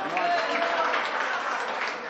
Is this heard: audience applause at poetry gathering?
yes